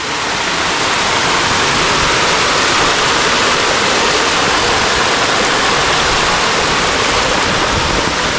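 Monsoon water rushes over Bushi dam in a loud, unbroken roar of broadband white noise, close and constant without pause.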